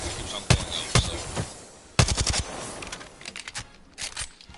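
Volt SMG gunfire in the Apex Legends video game comes in short, sharp bursts of rapid shots separated by pauses, loud and close, with faint clicks and impacts between the bursts.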